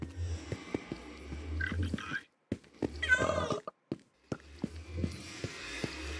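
A house cat meows somewhere near a gaming setup, brief tonal calls around the middle amid clicks, low hum and scattered noise, with gaps of near silence.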